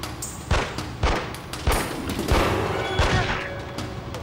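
Gunshots ring out in the X-Files video game, a series of sharp, loud reports spaced roughly half a second apart over a tense ambient background, with no talking.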